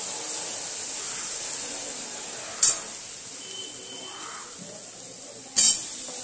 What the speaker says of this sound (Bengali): অল্প অল্প করে আমি ওই আলুগুলো দিয়ে দিলাম মশলার মধ্যে